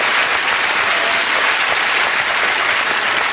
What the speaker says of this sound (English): You literally applauded fire.